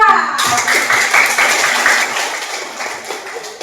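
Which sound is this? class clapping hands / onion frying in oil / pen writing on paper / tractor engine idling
class clapping hands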